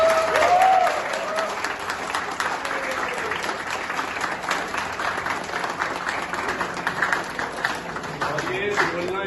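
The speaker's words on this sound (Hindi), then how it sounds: "तो अपने लिए एक बारी ताली बजा दो।" Gym members at an eighth-anniversary celebration applaud themselves with loud, sustained clapping and some cheering, while a voice speaks briefly at the start and faint speech lingers under the applause.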